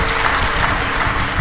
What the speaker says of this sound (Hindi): एक बार जोरदार ताली बजाकर इनके लिए स्वागत।